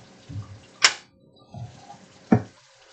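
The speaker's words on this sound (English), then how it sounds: "So I will start first by draining the shrimp." Liquid being drained from shrimp: two brief splashy pours separated by soft low knocks and handling sounds, close and moderately loud.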